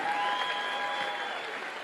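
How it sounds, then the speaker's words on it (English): A live audience bursts into steady, dense applause at a motivational speaking event, a continuous wash of clapping that holds at full strength for about two seconds. "Get the old man a round of applause."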